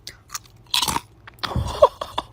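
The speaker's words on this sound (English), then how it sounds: "Listen to the sound of the crunch." Close, crisp crunching of a sugar-coated dried grape being bitten and chewed, a few loud crackly bursts spread over two seconds with quiet gaps between.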